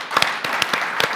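Sparse applause at a medical conference during a live case broadcast, a handful of distinct, separate claps with gaps between them rather than a full wash of sound.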